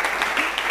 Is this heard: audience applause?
yes